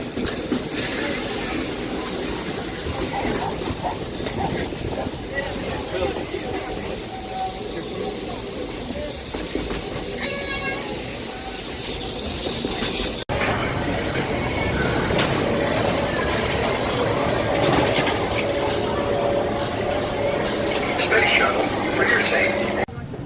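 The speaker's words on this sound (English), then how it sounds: "Please keep those dangling legs fully inside the train." A Space Mountain ride train at Magic Kingdom hisses and clatters along with steady noise and a loud hissing burst partway through, with voices and a faint announcement mixed in.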